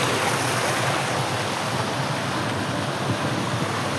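Continuous rushing water flowing under a stone bridge in a Japanese garden, a steady broadband wash close by, with no voices over it.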